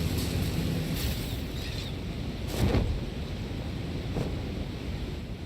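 A waterfall in the video game Satisfactory rushes as a steady broadband roar throughout, loud and continuous with a slight swell midway.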